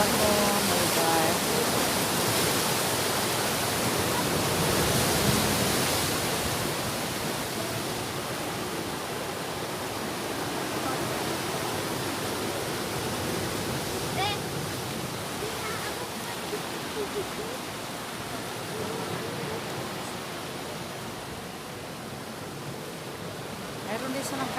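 Strong ocean waves crash steadily onto Patungan beach, a loud, continuous surf roar that fills the whole stretch with no clear breaks.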